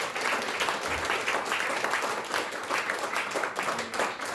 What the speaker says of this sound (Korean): 큰 격려와 감사의 박수 부탁드리겠습니다